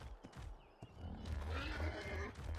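A horse neighs and snorts in the video game ARK Survival Ascended, a whinny rising over a low rumbling game soundscape with faint thuds, moderately loud.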